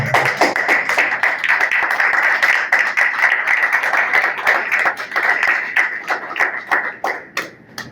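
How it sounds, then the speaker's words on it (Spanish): Audience applause at a poetry book presentation, a dense burst of many hands clapping close and loud that holds steady before thinning into scattered claps toward the end. "quisiera pedirles un aplauso por ese enorme"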